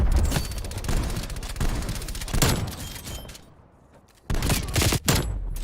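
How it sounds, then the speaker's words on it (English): Shotgun blasts and other gunfire in a video game: dense rapid bursts of loud close shots, a brief lull, then more heavy blasts resuming. "Shotgun, bitch!"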